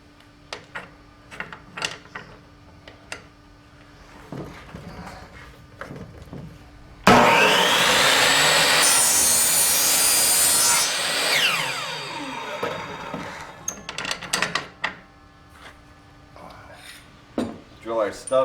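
A brand-new saw cuts parts for a Skybolt PPG paraglider build, a loud harsh rasp lasting several seconds amid scattered workshop clicks and knocks.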